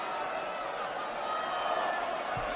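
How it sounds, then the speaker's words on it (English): A sold-out wrestling arena crowd cheers for Goldberg, a dense, continuous roar of voices that holds steady, distant and enveloping, with commentary talk likely beneath it. "There's a partisan Goldberg crowd, as you can hear"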